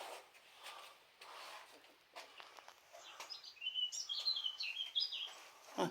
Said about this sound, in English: Twittery bird. First one I've heard.